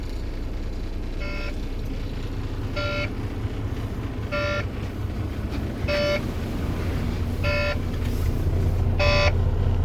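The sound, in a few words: truck low air pressure warning beeping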